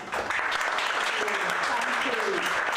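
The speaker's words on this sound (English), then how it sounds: "Can I have another round of applause, please?" Audience applause at an evening of creative readings, sustained and fairly even throughout, with faint voices threading through the clapping.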